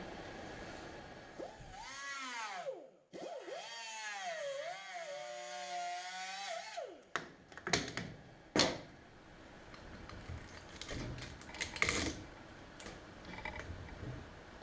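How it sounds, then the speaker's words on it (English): An air-powered cutter slicing through an intercooler part on a replica Audi Sport quattro, running as a steady whining buzz for several seconds, then stopping, followed by scattered clicks and handling noises nearby. "I got my cutter right here. I'm gonna go grab the air hose right there, and I'll just cut it"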